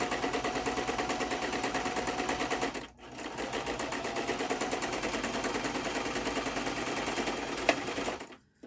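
Sewing machine stitching through a paper tag, a loud continuous rapid mechanical whir with a brief pause near three seconds before running on, ending with a short stop.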